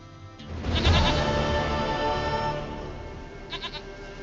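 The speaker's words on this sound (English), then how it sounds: "Goat of mine, dearest, sweetest goat." Goat bleats in The Witcher 3, a loud wavering bleat near the start followed by a couple of short quieter bleats toward the end, over steady game ambience.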